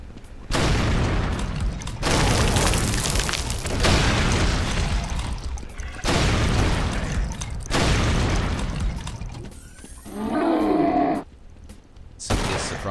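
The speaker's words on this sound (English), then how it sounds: "when in doubt, rocket launcher" Rocket launcher blasts in the video game Brutal Doom boom repeatedly in loud, heavy bursts of explosion noise, one after another with brief gaps, ending with a few shorter crashes and game effects.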